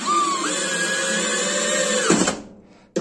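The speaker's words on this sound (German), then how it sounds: "Jetzt schrauben wir das da mal fest." A power screwdriver drives a screw into a wooden beehive, a close whirring motor whine that rises in pitch after a moment, holds steady for about two seconds, then cuts off abruptly.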